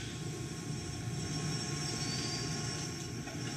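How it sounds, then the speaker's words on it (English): Space Shuttle Discovery's three main engines during launch make a dense, steady broadband roar with a faint tonal hum, continuous and unbroken with no voices. "Discovery's three main engines throttle back up"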